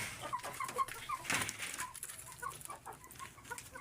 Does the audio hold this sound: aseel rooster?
yes